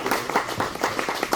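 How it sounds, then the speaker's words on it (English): An audience applauds local artists after a festival Q&A with a brief burst of clapping. The clapping is moderately loud and uneven, with no speech over it. "let's give a round of applause to our artists"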